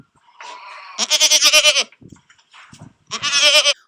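A goat bleats several times, loud and close: a short nasal call, then a long wavering bleat, a few faint noises, and another drawn-out quavering bleat, with no voices.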